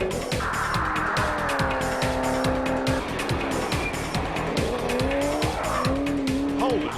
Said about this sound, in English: a high-powered lightweight version of the V8 Monaro